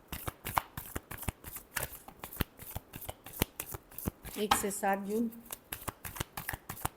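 Tarot cards being shuffled, a rapid run of crisp papery slaps and riffles repeating through the whole stretch, close and fairly loud, with someone talking over part of it.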